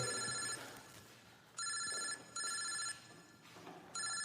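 A mobile phone rings in repeated bright electronic bursts, each about a second long with short gaps between them, heard alone at moderate volume in a quiet room.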